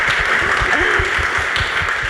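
An audience applauds steadily at the end of an art market panel discussion, a continuous patter of many hands at moderate volume with a faint voice underneath.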